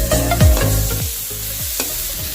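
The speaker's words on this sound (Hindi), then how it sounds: "हमने सेमिया डाल के थोड़ा सा सब्जी के साथ, गाजर और प्याज के साथ भून रहे हैं हम" Vermicelli frying in oil with carrots and onion, stirred in a pan: a steady sizzle under repeated scraping strokes of the spoon, close and fairly loud, with no voices.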